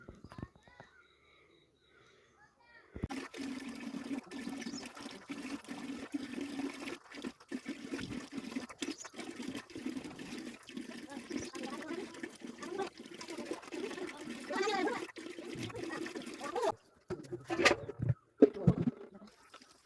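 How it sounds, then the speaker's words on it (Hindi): Water runs steadily for the morning fill at a household tap, a continuous splashing rush that starts abruptly after a quiet moment and carries on close by, with a few clunks near the end. "सासू जी पानी भरने लग गई थी"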